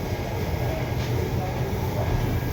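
Varanasi–Bareilly Express with LHB coaches rolling past as a steady, loud rumble with continuous rail noise, heard from a train carrying passengers on an Indian railway journey.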